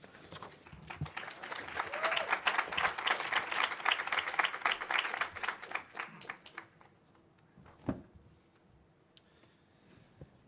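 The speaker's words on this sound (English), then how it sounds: "Can we get one more round of applause for our debaters?" Audience applause for student debaters fills a hall, a dense round of clapping that swells for several seconds, then thins out and fades, with a stray thump and a few scattered claps near the end.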